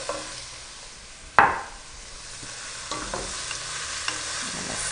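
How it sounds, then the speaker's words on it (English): Saltfish being stirred in a hot pan, a steady broadband sizzle with one sharp scrape or clatter near the start and occasional softer utensil knocks, close and alone without talk. "Stir this around."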